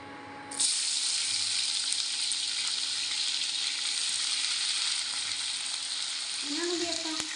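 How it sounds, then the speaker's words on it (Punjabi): Onions dropped into hot oil in a pan, cooked after ridge gourd: a broad sizzle starts suddenly and holds loud and steady, with a faint bubbling and brief scraping near the end, with no talk. "ਹੁਣ ਆਪਾਂ ਪਿਆਜ਼ ਫਰਾਈ ਕਰ ਲੈਣੇ"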